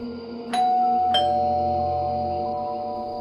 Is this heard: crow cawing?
no